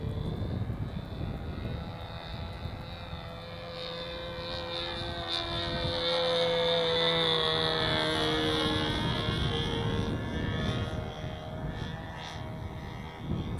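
A Sig Smith Miniplane model airplane flies at cruise throttle over a model flying field in Hemet, California, its small engine giving a steady, droning buzz that swells and shifts in pitch as it passes, heard alone.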